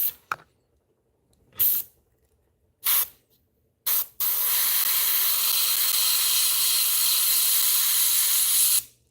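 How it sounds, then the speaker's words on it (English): An airbrush sprays paint in a few short bursts followed by one long, steady hissing spray of about five seconds, close and clear with no talk. "now we got to do really good, precise airbrush control on here"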